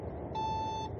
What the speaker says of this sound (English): If you stack your orders, the app does stop beeping